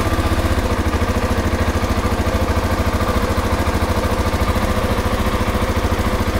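A 2020 Husqvarna 701 SM single-cylinder motorcycle with a fuel dongle installed idles close by, with a steady, loud, evenly pulsing rumble.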